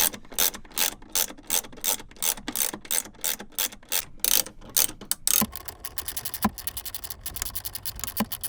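A ratchet clicks in quick bursts while backing off the mount bolts of a sailboat's Yanmar engine, close and loud, changing to a faster, lighter clicking run with a few sharp knocks.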